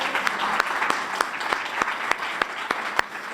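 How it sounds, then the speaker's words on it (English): An audience gives a panel a steady round of applause after a talk on aging options, with dense even clapping and a few sharper individual claps standing out throughout. "Nice round of applause for our panel."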